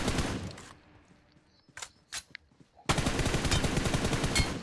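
Rapid automatic gunfire in PUBG Mobile, a loud sustained burst, then a pause with a few sharp isolated shots and footsteps, then another long dense burst of fire close by.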